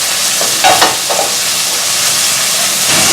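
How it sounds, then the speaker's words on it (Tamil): Sliced onions going into a hot pan for Chettinad-style crab gravy, a loud continuous close sizzle with a few stirring scrapes early on and no talk. "நான் வந்து 2 பெரிய வெங்காயம் வந்து கட் பண்ணி வச்சுருக்கேன் நீள நீளமாக. அதை வந்து இதில் சேர்த்துக்க போகிறேன்."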